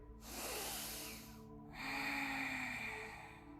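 Deep yoga inhale during a beginners' class: a drawn-in breath, a short pause, then a second, slightly stronger breath, close and airy, with no talking.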